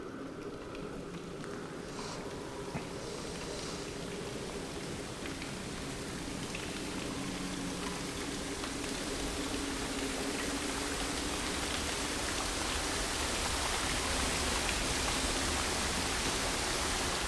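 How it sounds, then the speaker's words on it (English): Steady broadband rush of falling water from behind a waterfall in the game Dear Esther, a continuous dense roar that swells slightly louder over time, with no voices. "Now we're behind a waterfall."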